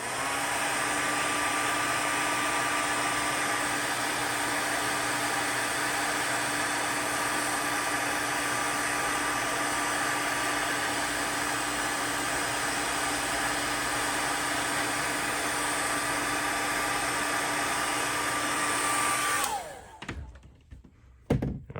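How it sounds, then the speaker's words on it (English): A hair dryer blows loudly and steadily with a constant whine for about twenty seconds, then cuts off with a few clunks. "I'm gonna be using a hairdryer in 3,"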